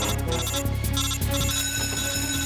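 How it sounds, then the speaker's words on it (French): An alert alarm in Metal Gear Solid 3 blares loudly and continuously, a steady electronic ringing tone over game sound. "l'alerte va sonner"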